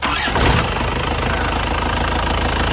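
A 1995 Isuzu TFR pickup with power steering cranks and catches, then settles into a loud, close, steady idle that runs on with no voices.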